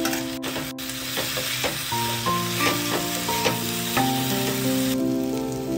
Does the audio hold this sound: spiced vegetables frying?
yes